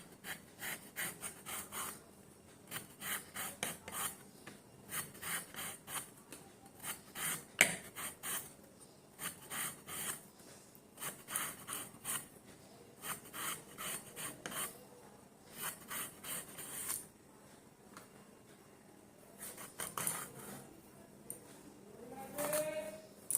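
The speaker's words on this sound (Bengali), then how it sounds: "এই যে পটলটাকে এইভাবে কেটে নেব" A knife slices soft, fresh pointed gourd (potol) in quick rhythmic rasping strokes, close and fairly quiet, repeating in bursts with brief pauses.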